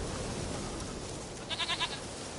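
Goat bleating in the video game The Witcher 3, a short wavering call rising briefly above a steady background hiss.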